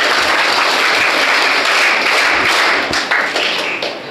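Students applaud at a college annual day, loud and sustained clapping filling a hall with scattered individual claps, tapering slightly at the end.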